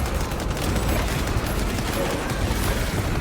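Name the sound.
bolter gunfire mowing down enemies in video game Space Marine 2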